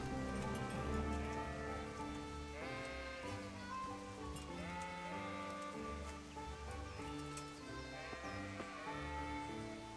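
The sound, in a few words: sheep bleating in the video game Kingdom Come: Deliverance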